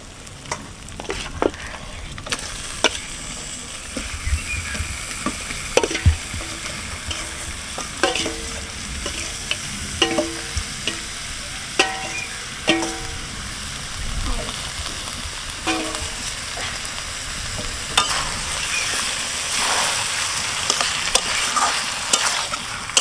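Local country chicken is stirred into cooked-down spice paste in a pan, a steady loud sizzle broken by repeated scraping strokes and clinks of the spoon, with occasional talk over it.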